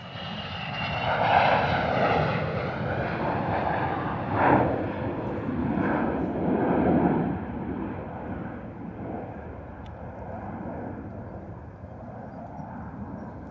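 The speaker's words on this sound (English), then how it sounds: "Bombardier Global 6000. This one's probably going to be up quite early too." A Bombardier Global 6000 business jet takes off from London Stansted, its engine roar rising and falling at a moderate distance before fading away, with some wind buffeting the microphone.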